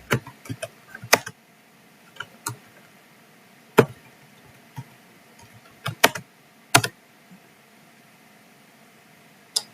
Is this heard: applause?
no